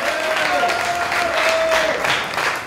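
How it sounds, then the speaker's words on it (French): An audience claps steadily at a French public debate, welcoming two guests to the stage; the clapping is dense and fairly close throughout. "Baki Youssoufou, Jean-Claude Chikaya, on peut les applaudir"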